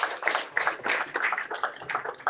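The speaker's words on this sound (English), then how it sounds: "Let's clap for him" An audience claps at a launch event, a short burst of moderately loud, fairly dense applause heard close up with no talking over it.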